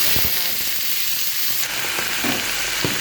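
Dry red chilies and black mustard seeds crackle in hot oil, a loud, steady close-up sizzle with a few sharp pops throughout.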